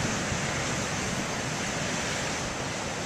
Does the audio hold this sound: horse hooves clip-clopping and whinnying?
no